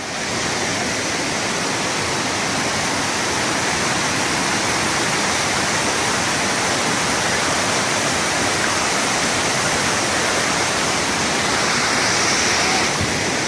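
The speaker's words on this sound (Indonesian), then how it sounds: "Kita nikmati indahnya alam air terjun 7 Bidadari." The Tujuh Bidadari waterfall on Mount 7 Bidadari in Aceh roars as a steady, loud, broadband rush of falling water that fills the whole stretch without pause and with no voices.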